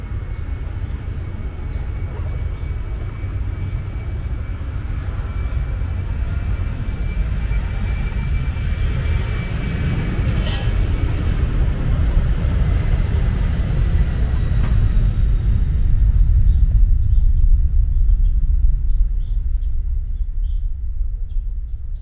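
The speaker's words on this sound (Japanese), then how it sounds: "滑走路のすぐ隣にあるので音が溢れてきます。" Airplane engines roar beside the Osaka International Airport runway at a shrine, a loud continuous low rumble that swells as an aircraft passes close, with faint birds in the background.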